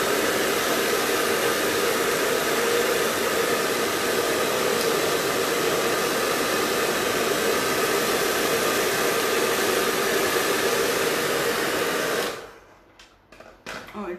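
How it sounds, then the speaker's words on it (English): A hair dryer blows glue dry on a wooden MDF decoupage Buddha T-light holder. It gives a loud, steady whooshing roar for about twelve seconds, then cuts off, leaving a few faint clicks and handling sounds. "Now again I will use the dryer."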